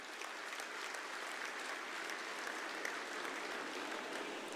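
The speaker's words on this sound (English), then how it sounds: "Let's give him a big applause, ladies and gentlemen." An audience applauds the Chief Minister at the Make in Odisha investment conclave, a dense, steady wash of clapping from a large crowd with no voices over it.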